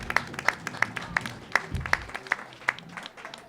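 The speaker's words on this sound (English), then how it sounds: "Everybody give them a round of applause." An audience at a panel applauds, a thin scattering of distinct claps in a loose rhythm at moderate distance, brief and fairly quiet.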